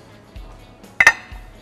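A dish of steamed egg custard with prawns comes out of a steamer, a sharp double clink of crockery against metal standing out over a quiet kitchen background, with soft low bumps before and after.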